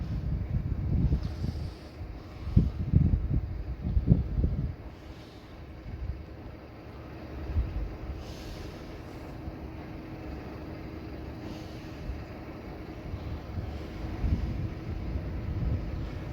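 A bakery delivery lorry's diesel engine pulls away along a Blackpool street, a low rumble with several surges of revving in the first seconds, then settling to a steadier drone as the lorry moves off, with wind buffeting the microphone.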